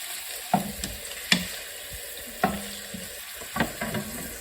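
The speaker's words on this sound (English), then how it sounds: "let this kind of cook in. It's medium heat. I just am flavoring the oil" Aromatics sizzle gently in oil over medium heat, a soft steady fry broken by several sharp clatters and scrapes of a utensil against the pan at irregular intervals.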